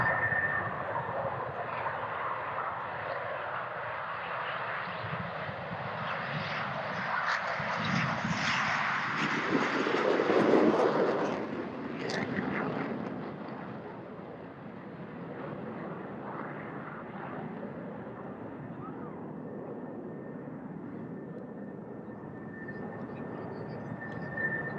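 F-16A jets powered by Pratt & Whitney F100-200 engines roar past at a military air show, a sustained loud jet rumble that swells and fades, with faint announcer talk.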